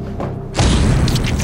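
A single deep boom of a bomb exploding in a video game, bursting suddenly partway through and rumbling on to the end, loud and close with no talk.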